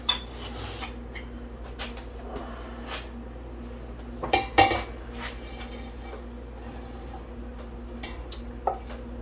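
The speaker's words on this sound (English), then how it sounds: "My wonderful husband's going to help me put the meat in this pot" Raw meat going into a large pot while canning hamburger soup, with scattered metallic clanks and a few louder knocks of utensils against the pot over a steady kitchen hum; no talk.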